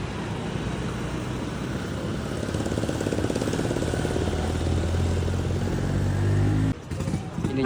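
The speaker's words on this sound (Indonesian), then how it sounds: "Ini juga minibus sudah lewat." A minibus goes by on a road in Morowali, its engine hum building and droning steadily before cutting off sharply near the end, with a brief return of sound afterward.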